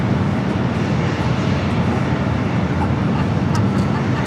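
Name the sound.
Condor A330neo airliner going around at LAX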